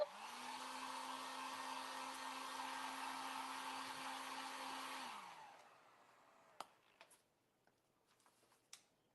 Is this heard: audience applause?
no